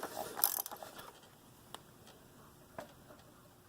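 A torque wrench tightening the oil drain plug on a 2001 Volkswagen Golf Mk4 TDI, a quiet mechanical ratcheting with a couple of sharp isolated clicks, faint and close.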